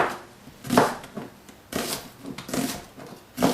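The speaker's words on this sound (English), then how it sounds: "we're just gonna slice it lengthwise" A knife slices vegetables lengthwise into thin, long strips for beef lo mein. Close, crisp cutting strokes come in irregular bursts, with no voices.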